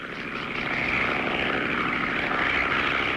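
A propeller crop duster airplane passes steadily overhead on its final spraying run, a continuous droning engine hum that stays loud and even throughout, with no voices.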